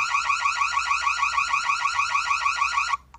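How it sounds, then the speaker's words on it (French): A loud warbling electronic alarm siren from an Annke Custos wireless security camera sounds continuously for about three seconds, then cuts off abruptly. "Je peux activer la sirène d'alarme."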